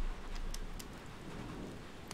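Rainfall in the Sherlock Holmes: The Devil's Daughter video game, a soft continuous hiss with a few faint tapping drops and a low background rumble, quiet and unbroken.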